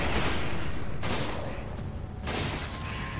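Rapid bursts of gunfire and booming explosions crackle through a Resident Evil 5 co-op firefight, dense and loud in two sustained salvos separated by a brief lull.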